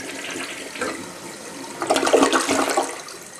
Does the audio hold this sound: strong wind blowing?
no